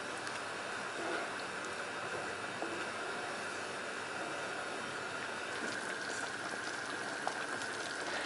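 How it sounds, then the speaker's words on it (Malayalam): Rice water for Kerala-style prawn biryani, seasoned with salt and lemon juice, boils in a pot with a steady rolling bubble and hiss, soft and continuous without pause. "ഇത് തിളച്ചു തുടങ്ങിയിട്ടുണ്ട്."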